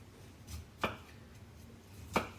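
Knife chopping broccoli and cauliflower florets on a board, two crisp distinct cuts with a softer tap before them, close and fairly quiet, no speech.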